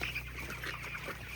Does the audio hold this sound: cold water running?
no